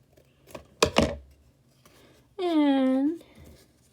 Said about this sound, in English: So I'm going to cut it out.